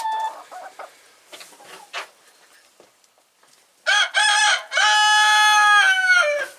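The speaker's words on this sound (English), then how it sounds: "That was the scalped chicken." Hens in a coop inside an old barn, scattered clucks and low murmurs, then a loud nearby rooster-like crow with strong harmonic tones that carries to the end.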